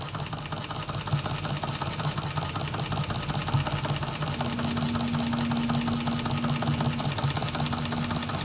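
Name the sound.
Cornely chainstitch embroidery machine stitching on felt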